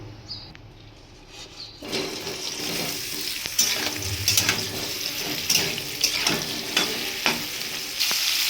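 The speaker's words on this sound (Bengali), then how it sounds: "কড়াইতে সাদা তেল দিয়ে দিয়েছি, তেলটা গরম হয়ে গেছে। আমি কপিগুলো দিয়ে দেব।" Cauliflower pieces dropped into hot white oil in a wok, bursting into a loud, close, continuous sizzle and crackle with clattering stirring knocks, after a quieter moment at the start.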